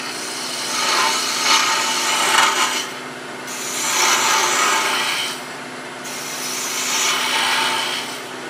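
A gouge cuts wood on a lathe during multi-axis turning of a wooden bird, giving three long scraping, rasping passes with short pauses between them, close and steady.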